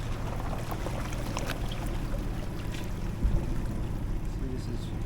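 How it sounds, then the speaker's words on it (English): A Jeep Liberty off-roader with a solid rear axle idles through a deep puddle, a steady low engine rumble with water sloshing and splashing around it, close and continuous. "See, this is quite deep. And just not a problem. The Jeep just idles through."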